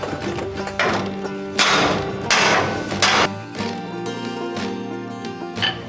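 A ball peen hammer strikes metal repeatedly in an irregular rhythm during a 1948 GMC engine mock-up, each blow loud and ringing, with a sustained metallic hum underneath.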